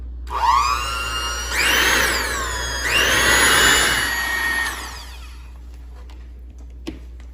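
An electric mixer whirs through cupcake batter in three loud, rising-and-falling runs, each spinning up and then winding down, before the motor cuts off and leaves near quiet with one small knock.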